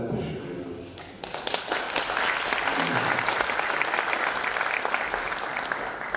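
Loud, sustained audience applause fills a concert hall at a Turkish folk music choir performance, swelling after a quieter opening second and continuing as a dense, steady wash of clapping.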